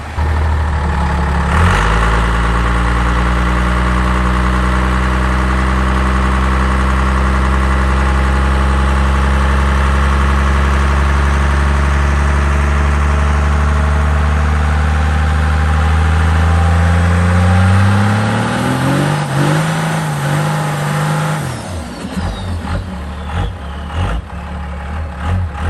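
An old truck engine warming up at a steady, loud idle close by, the revs rising and climbing near the end before it abruptly shuts off, leaving faint rattles and quiet.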